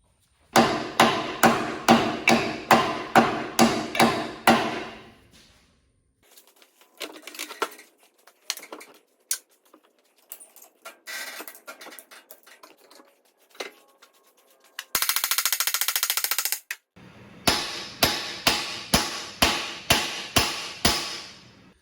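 New bushings are hammered into a Vermeer TM700 part: two bursts of rapid, ringing metal hammer blows at the start and end, with scattered clanks, taps and a short hissing rush between them, close up.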